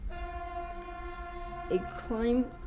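A train horn sounds near and loud in a sustained, steady blast as a train passes on the line outside a town near Santa Fe, New Mexico, followed by two short, louder bursts of voice or horn near the end.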